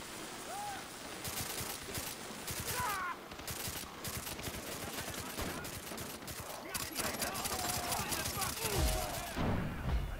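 Gunfire in the video game Far Cry 3, repeated bursts of automatic shots and scattered single cracks over several seconds, fairly quiet in the mix with game sounds around them.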